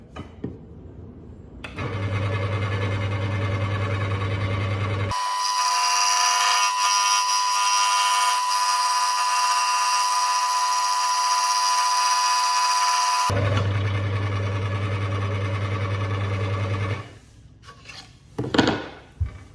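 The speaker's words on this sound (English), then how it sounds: "Let's see how it handles with a piece of wood in the blade. I've just got a little piece of scrap ply." Axminster Craft AC456SS scroll saw cutting a small piece of scrap plywood: a steady motor hum, then a loud, continuous rasping buzz of the blade through the wood for about eight seconds, returning to the idle hum before stopping.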